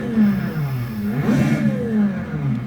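A racing car engine from a sim racing setup revs loudly in a mid-range sweep, climbing and falling as the throttle is blipped, with no talk over it.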